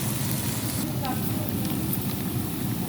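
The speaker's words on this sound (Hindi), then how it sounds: "प्याज को हमने चॉप कर लिया था अच्छी तरह। अब हम इसे अच्छी तरह ब्राउन करेंगे" Chopped onions brown in a hot pan for a chicken karahi, giving a continuous, close hiss and crackle of frying oil, with a faint voice briefly rising above it.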